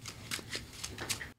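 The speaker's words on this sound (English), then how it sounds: "Shuffle up real quick." A deck of playing cards being shuffled up close, a quick series of crisp riffling bursts over about a second and a half, with no speech.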